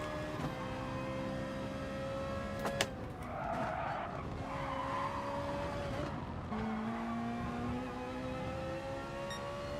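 A Ferrari GR.4 race car at Suzuka in GT Sport, the engine note rising and dropping through gear changes with tire squeal in the corners, continuous and fairly close.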